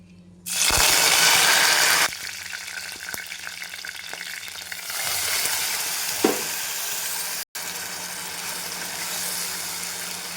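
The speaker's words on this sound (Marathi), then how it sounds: "फ्राय जिरं छान तडतड होऊ द्यायचं" Cumin and mustard seeds spluttering in hot oil for tempering, a loud burst of sizzling and crackling at first, then a steadier frying hiss with a brief clink partway through, no talking.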